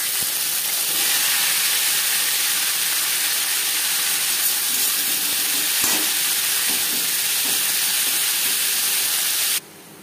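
Yardlong beans fry in hot refined oil with whole cumin seeds, giving a loud, continuous close-up sizzle and hiss with faint stirring, ending abruptly at the close.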